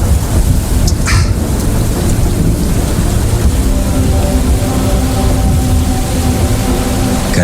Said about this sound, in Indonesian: Gara-gara hujan yang tiba-tiba lebat itu, aku jadi tidak bisa pulang.